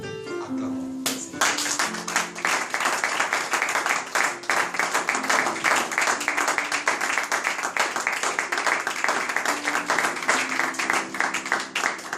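A congregation at a church service claps steadily, with dense rhythmic applause running throughout and a held tonal sound underneath.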